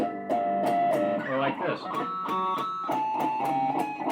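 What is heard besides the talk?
pinch harmonic on distorted electric guitar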